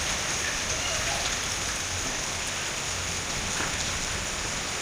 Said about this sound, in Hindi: ये देखो बारिश है तो भयंकर,